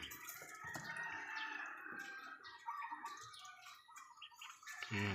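Six-day-old ducklings huddled in their pen chirp and peep continuously, soft and close, with some water dripping sounds.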